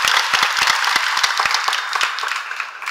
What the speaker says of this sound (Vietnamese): bằng một tràng pháo tay.